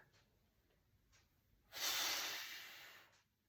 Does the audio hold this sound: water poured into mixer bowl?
no